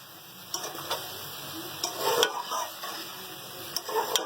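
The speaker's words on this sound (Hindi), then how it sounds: "ये देखिए, ये मैंने अच्छी तरीके से भिंडी मिक्स कर ली है।" Okra is stirred and fried in a kadhai with a gentle, continuous sizzle. Repeated scrapes and taps of a spatula against the pan sound close and irregular.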